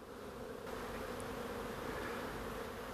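Honeybees busy at apiary hives in November make a continuous close buzz that grows a little louder partway through, with no voices.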